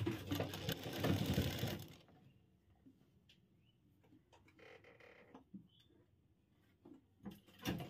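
Sewing machine stitching piping onto a trouser cross pocket, a loud dense buzzing run of stitches for about two seconds, then quiet handling with light clicks and rustles of fabric.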